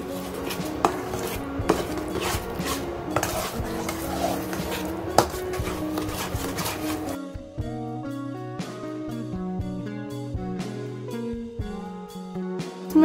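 Halwa with roasted dry fruits is stirred in a pan, producing repeated scraping and clinking of a utensil against metal, steady and close, with music playing in the background for the second half.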